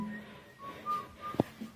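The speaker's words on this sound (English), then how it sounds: "Escucho silbidos desde el patio." Someone whistles outside on a patio at three in the morning, a few faint, short, thin notes spaced apart against a quiet night, with one brief louder chirp.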